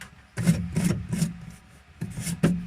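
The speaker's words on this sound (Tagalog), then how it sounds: "Lihain mo muna siya para kumapit yung ano." Sandpaper is rubbed across a freezer's surface to rough it up before applying epoxy steel clay, giving five quick, close rasping strokes in an uneven rhythm with a short pause before the last two.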